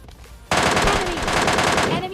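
Automatic gunfire from MK and M4 guns in PUBG Mobile Lite: a quiet moment, then a loud, sustained rapid burst of shots that runs to the end.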